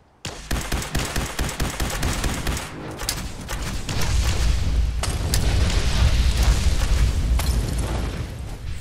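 Gunfire during an Enclave ambush in Fallout 4, starting with rapid automatic bursts, then swelling into dense, loud continuous firing and booming impacts that blur into a roar.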